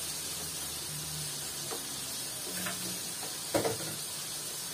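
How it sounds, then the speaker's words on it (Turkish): Food fries in hot oil with a soft, steady hiss and faint crackles, quiet and continuous, with one sharper pop near the end. "Kızartma yaptım."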